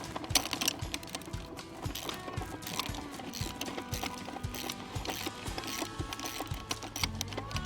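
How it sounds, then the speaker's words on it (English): A socket wrench ratchets on a nut and bolt on the handle of a portable fencing reel. It gives quick, faint, continuous clicking from close by. "So I'm just going to start by putting my wrench on the bottom of that bolt and putting the socket wrench on the nut"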